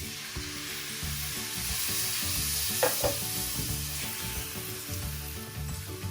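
Puree hits a hot pan on an electric stove and sets off a loud, steady sizzle with a bubbling hiss, running over soft background music throughout.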